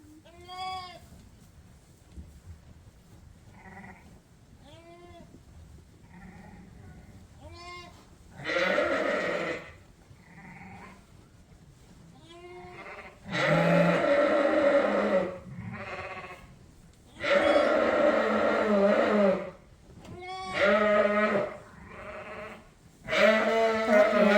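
A pregnant Dorset ewe bleats loudly and repeatedly in long, wavering calls, with quieter bleats from other sheep between the louder bursts.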